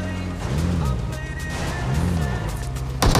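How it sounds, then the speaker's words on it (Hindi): A vehicle engine in a video game hums with a low drone while two rising-and-falling swells pass, ending in a sudden loud burst. "तभी एक गाड़ी का साउंड आता है हमें।"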